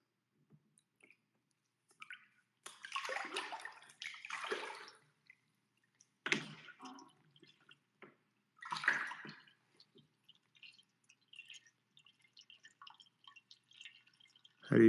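Water in a bathtub splashes in several short, close bursts separated by quiet gaps, with faint drips and small sloshes in between.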